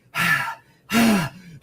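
A man imitates heavy breathing with two loud, drawn-out breaths separated by a short pause, close to the listener, then begins a third.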